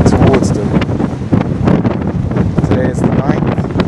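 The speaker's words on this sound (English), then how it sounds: "Boat speeding towards them." A speedboat speeds across open water on a windy day, its engine drone mixed with strong wind buffeting the microphone and the rush of water.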